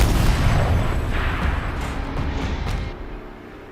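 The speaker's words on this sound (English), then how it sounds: "Rotate turret! And fire!" Tank turret cannon firing in a video game, a loud sustained booming roar with a rumbling tail that fades after about three seconds, with no voices over it.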